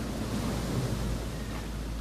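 Flowing water rushes in the video game Shelter 2, a steady, dense wash of broadband noise that holds evenly for two seconds with no voices over it.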